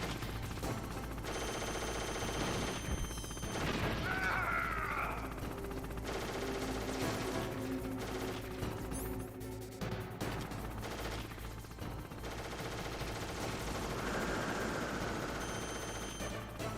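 Rapid bursts of gunfire from the video game Metal Gear Solid, a steady rattle of shots over game ambience and background music, moderately loud and continuous.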